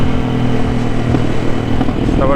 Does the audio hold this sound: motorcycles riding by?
yes